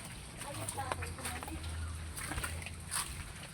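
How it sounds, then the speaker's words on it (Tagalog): Native chickens clucking nearby in a rural outdoor setting, with scattered soft clucks and calls under a low steady hum and some background voices. "Kasi may native manok sila guys."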